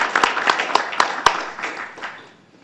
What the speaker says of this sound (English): Oh, we can clap.